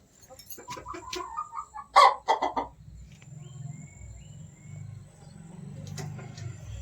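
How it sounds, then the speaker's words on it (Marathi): Kadaknath chickens clucking, with a burst of sharp louder calls near the middle, over a steady low hum of background noise. "ती एक कोंबडी आहे ना ती कोंबडी आणि हे दोन कोंबडा हा कडकनाथ आहे"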